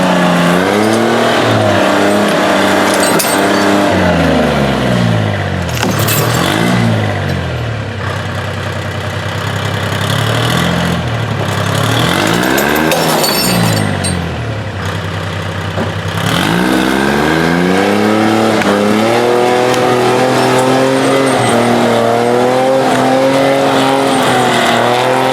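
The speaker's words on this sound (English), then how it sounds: "we'll see how this new exhaust sounds" A Timberjack forestry skidder's heavy engine, loud and close, revving up and dropping back to idle several times with a rough, throaty note from a new exhaust.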